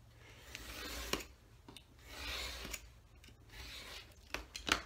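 Paper is cut on a cutting mat, with soft scraping and rubbing interrupted by a few sharp clicks and snips, faint and close, with no talking.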